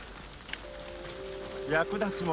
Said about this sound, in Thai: เฮ้ยฝนตก